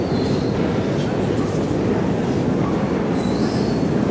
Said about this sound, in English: Actually, we're not on the metro, we're just on the escalator.